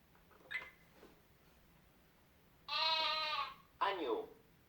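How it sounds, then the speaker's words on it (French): Lamb bleating from an interactive 4-in-1 children's toy desk, two electronic bleats in a row, the first long and wavering, the second shorter, following brief speech from the toy. "L'agneau est le petit du mouton."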